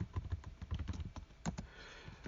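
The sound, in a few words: typing on a computer keyboard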